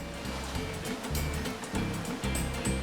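A concrete truck's drum turns and churns wet cement, a steady low rumbling roar with rhythmic surging swells as the mix tumbles around, continuous and fairly close.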